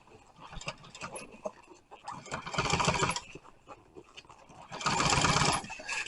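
A sewing machine stitching boat seat upholstery fabric, running in two longer loud whirring bursts with quieter mechanical handling and clatter in between, close up.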